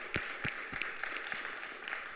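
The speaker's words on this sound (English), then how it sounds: "So can we give them a round of applause?" Audience applause at a health equity summit, a soft continuous patter of many hands clapping with a few sharper claps standing out, distant and fairly faint.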